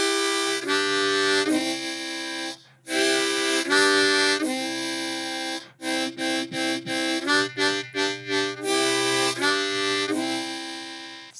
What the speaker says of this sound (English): if we just did this song with 2 holes at a time, it would sound like this